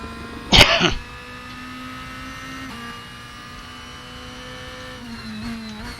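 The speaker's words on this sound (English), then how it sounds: "There's a JB spin for you boys. It's on the grass too much." A DTM race car in a sim racing game at Bathurst spins out onto the grass: a sharp burst of tyre and gravel noise, then the engine drones on at steady revs, fairly quiet and continuous.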